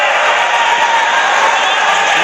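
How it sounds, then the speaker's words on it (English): A stadium crowd at a football match at Kobe's stadium cheers and applauds, a loud dense roar that stays steady and close throughout. "Ripples applause ringing around the Whistle Kobe Stadium."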